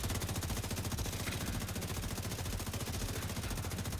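Sustained assault rifle fire in The Division 2 rattles in a fast, even stream of shots, steady and fairly loud throughout with no pauses.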